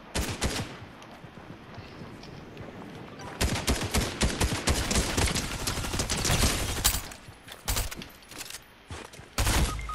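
Rapid gunfire in the Fortnite video game, with dense bursts of shots and near-continuous volleys throughout, loud and close, with a few short pauses between strings of fire.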